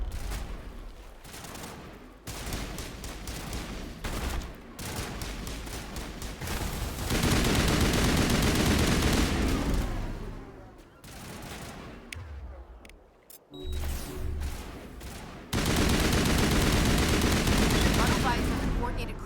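Mass Effect battle against Geth, with dense rapid gunfire bursts and fusillades, loud and close, stopping and restarting in waves, and brief quieter gaps where voices speak.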